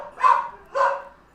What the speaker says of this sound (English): as you guys can tell, you can hear the dogs in the background